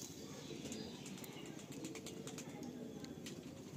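High flying pigeons handled up close, with soft wing flapping and faint cooing over a low background rumble, ending in a sudden louder rustle.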